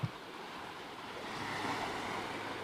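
Sea waves wash steadily at the water's edge beside a beachside dining spot on Pattaya beach, Thailand, as a soft continuous surf wash that swells slightly midway, with light wind noise and no voices.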